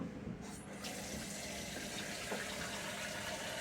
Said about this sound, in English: First, put that bowl and run hot water in it.